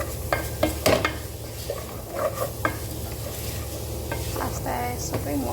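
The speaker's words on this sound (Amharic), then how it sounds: "ከዛ ቲማቲምና የሚያቃጥለውን ቃሪያ እጨምራለሁ።" Tomatoes and hot peppers frying in a pan for lasagna, a steady sizzle under repeated close stirring and scraping with a few sharper utensil clinks early on.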